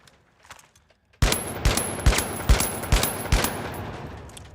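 A SCAR rifle in a video game fires a steady burst of about six loud, evenly spaced shots that start abruptly after a near-silent moment.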